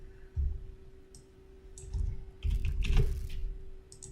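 Computer mouse and keys clicking on a local computer while logging in to a fresh WordPress install, a few scattered close clicks and taps with quiet gaps between them, no voices.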